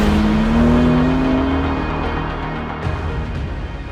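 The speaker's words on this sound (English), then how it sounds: "The engine sound is a little fake and it isn't much to get excited about" The engine of a new BMW M2 sports car drones loudly under acceleration, with a whining pitch that climbs and then eases off as the car keeps pulling.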